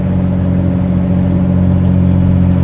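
A Mopar truck engine drones steadily while driving, a constant low hum with road rumble, loud and close throughout, with no voices.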